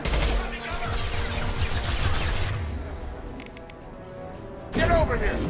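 Rapid bursts of gunfire ring out in the video game Mass Effect 2, loud and dense at first, then thinning into sparse cracks before a final sharp burst, with voices talking over the shooting.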